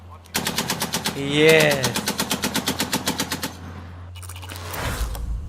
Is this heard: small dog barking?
no